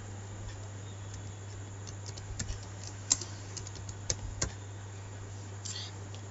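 Someone types on a computer keyboard, a quiet, irregular run of light key clicks with a few sharper taps standing out over a steady low hum.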